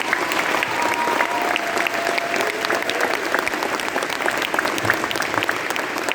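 An audience at a marching band awards concert gives a round of applause for the band's banner carriers, with dense, steady clapping filling the room from start to finish.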